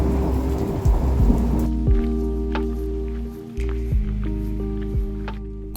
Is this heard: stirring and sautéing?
no